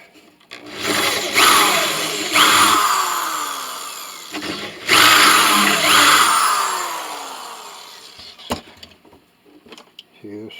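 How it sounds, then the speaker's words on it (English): A drill bores out holes in a part for a five-string cello, running in two long, loud whirring bursts with short pauses between them, followed by quieter scattered handling clicks. "So now we can drill these out."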